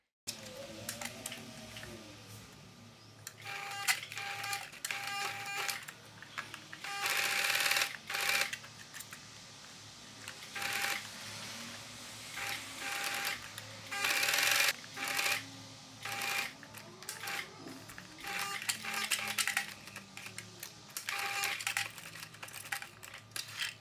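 A sewing machine topstitches a drop-waist Basque skirt in several bursts of rapid mechanical stitching, separated by short pauses, close but fairly quiet.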